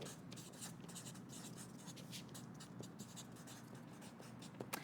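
Pen or marker scratching across a paper T-shirt pattern piece, a continuous close scratching and rubbing with brief strokes, no talk.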